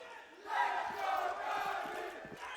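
Faint crowd noise from an esports arena at a CS2 semi-final between NaVi and Vitality, a sustained swell of voices shouting and cheering that rises quickly and holds at a distance.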